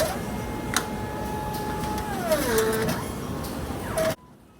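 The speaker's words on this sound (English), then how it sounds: "The machine automatically takes in the samples" A clinical biochemistry auto analyzer processes samples with a steady mechanical hum, whining motor tones that glide and shift in pitch, and small clicks, close and continuous before stopping abruptly.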